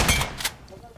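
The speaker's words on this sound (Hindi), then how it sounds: "डीबीएस का एक शॉट भैया हेड कनेक्ट हो रहा है" A DBS double-barrel shotgun fires in a mobile battle royale shooter, two sharp loud blasts in quick succession followed by a short fading tail.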